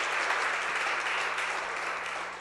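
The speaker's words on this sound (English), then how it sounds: "I think that deserves a round of applause" Audience applause at a campaign kickoff event, a steady wash of clapping from a crowd that fades slightly toward the end.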